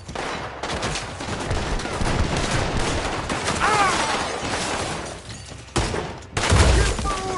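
Gunfire in the Western video game Red Dead Redemption 2: a dense, continuous fusillade of rifle and pistol shots with shattering impacts, loud and close, mixed with shouting voices and a sharp burst near the end.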